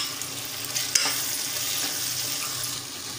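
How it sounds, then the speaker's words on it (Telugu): A paste of ground peanuts and sesame seeds fries in a pan, giving a steady, close sizzling hiss with a brief clatter of stirring near the start. "కొద్దిసేపు వేగనివ్వాలి."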